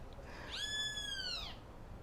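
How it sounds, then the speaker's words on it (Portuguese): A small bird sings in a garden: one drawn-out, clear whistled note lasting about a second, rising then falling slightly, heard alone over a quiet background. "Olha que lindo passarinho cantando. Vocês ouviram?"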